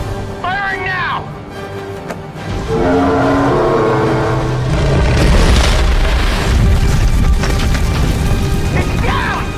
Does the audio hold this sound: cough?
no